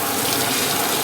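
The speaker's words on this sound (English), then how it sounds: "get your water on, check it on the side. Go ahead and spray it." Water spraying hard from a hose while a press pan is cleaned, a loud, close, continuous hiss and rush with no break.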